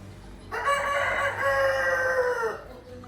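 A village rooster lets out one loud, drawn-out crow of about two seconds, close by and alone against quiet surroundings.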